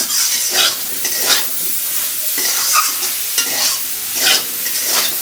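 Bay leaves hit hot oil for a Bengali rohu fish and thin eggplant curry, giving a steady, loud, close sizzle with rhythmic surges of crackle and stirring throughout.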